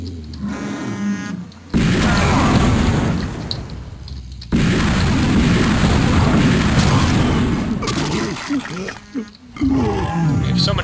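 Loud booming rocket blasts from the first-person shooter Shadow Warrior, level Alliz Town, erupt in two heavy sustained bursts of rumbling detonation with brief gaps, close and dense, with gameplay voices under the noise.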